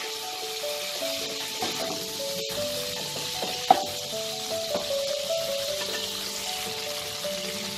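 Prawns frying in hot oil produce a continuous crackling sizzle with scattered pops and one sharp clack midway, steady in level throughout.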